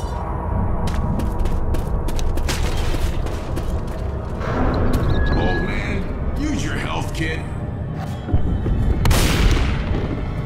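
Repeated booming shotgun blasts fire in the zombie shooter Left 4 Dead 2, set against a dense bed of game noise and clatter.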